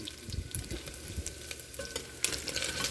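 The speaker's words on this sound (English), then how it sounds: "now the bacon is rendered and about crisp" Bacon fries and sizzles in a pan at a campfire, giving a soft, steady crackling hiss with light pops and a brief scrape partway through, heard close with no talk.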